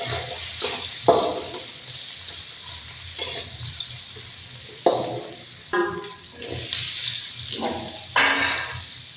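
Garlic paste, green chillies and onion frying in a pan for a potato and egg dish, with a soft continuous sizzle broken by intermittent stirring scrapes and clatters, close and fairly quiet, no talking.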